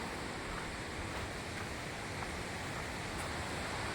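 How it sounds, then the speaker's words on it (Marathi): The Domzira waterfall near Jawhar, which flows all year, drops from a great height into a deep valley, a steady, even roar of falling water heard from some distance, with no voices. "आवाज येत असेल मित्रांनो किती वरूनशी पाणी पडते ते"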